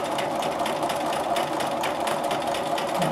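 A sewing machine runs continuously and steadily while stitching vein lines onto a modern quilted leaf block, with a close, even mechanical whirr and no talking.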